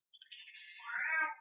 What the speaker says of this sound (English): somebody needs to feed the cat